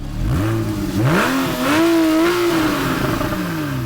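Porsche engine revving hard and accelerating through its PDK gearbox, a loud close growl whose pitch climbs, dips and climbs again before settling as it pulls away.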